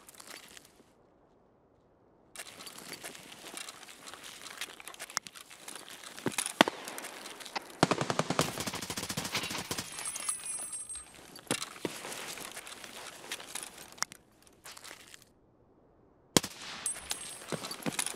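Sniper scav gunfire in Escape From Tarkov, shots cracking in bursts and single reports amid rustling movement, with a quiet gap early on and another near the end, no talking.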